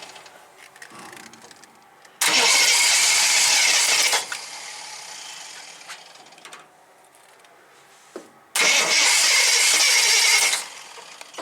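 A barn-stored Jeep J4000, nearly out of gas, roars in two loud, sustained engine bursts a few seconds apart, with a quieter, rougher stretch of running between them.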